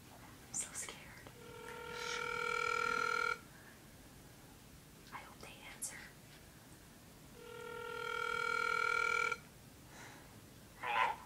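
A telephone rings over speakerphone, two long electronic ring tones heard through a small speaker, with faint whispering and rustling between and after them.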